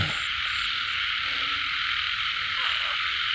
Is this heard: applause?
no